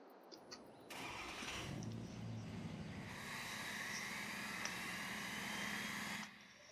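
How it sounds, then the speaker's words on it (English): A 6L truck engine in Farming Simulator 22 cold-starts with a cranking burst, catches, and settles into a loud, steady rumbling idle that rises slightly before cutting off abruptly near the end. "get a cold start of the old 6L"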